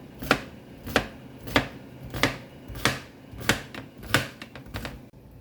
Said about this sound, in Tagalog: nahiwa na natin ang ating pipino